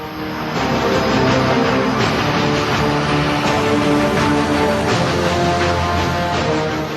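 Indian Air Force aircraft at a forward airbase in Ladakh on the India–China border give off a loud, unbroken engine roar that holds steady and close throughout, with no voices.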